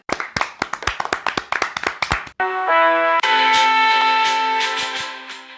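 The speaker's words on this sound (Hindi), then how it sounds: "सभी बाल कलाकारों के लिए तालियां" A small audience claps for child performers at a children's program: about a dozen crisp, uneven claps, then sustained instrumental music with steady tones takes over.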